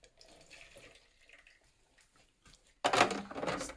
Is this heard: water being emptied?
yes